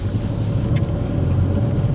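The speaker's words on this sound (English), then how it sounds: "So we'll use gear 1 to enter the car park" A car creeps in first gear into a driving test centre car park, its low engine rumble steady and close from inside the cabin, with a brief faint squeak partway through.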